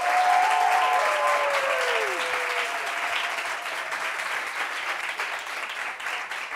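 A studio audience gives a guest a dense, sustained burst of applause that stays loud and even throughout, with a brief tonal sweep near the start.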